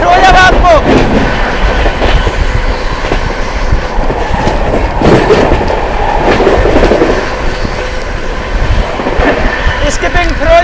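The 12559 Shiv Ganga SF Express on the Banaras–New Delhi run, heard from aboard as it runs through Firozabad station without stopping, with loud, close, continuous clickety-clack of wheels and rattling carriages throughout.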